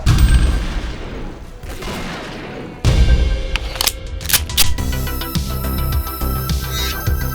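Shotgun blasts in a first-person shooter game, loud and close, with two heavy booms a few seconds apart followed by sharp mechanical clacks of reloading or pumping and a denser spell of clattering action.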